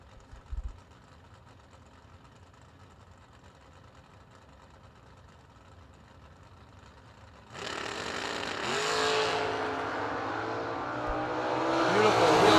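A 1972 Chevrolet Nova drag race car sits near idle on the strip, then launches into a loud, sustained engine roar that keeps building as it charges away.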